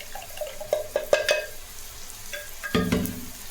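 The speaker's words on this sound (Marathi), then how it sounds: "याला पण छान 2 ते 3 मिनिट तेलात फ्राय करायचं आहे" Tomato and spices frying in oil in a pan, a soft sizzle broken by several clattering stirs and scrapes, with a louder burst of stirring near the end.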